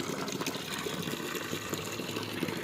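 Water pumped by an electric motor gushes and splashes steadily for a few seconds on a rooftop garden, a close, even rushing with no talk.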